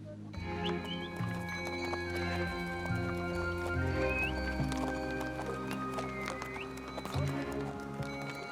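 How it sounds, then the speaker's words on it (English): Caravan horses walk a mountain trail on the old monk's road to Zanskar, their hooves clip-clopping steadily and close with an occasional whinny, over continuous low rumbling background noise. "It's very difficult for the horses to walk here."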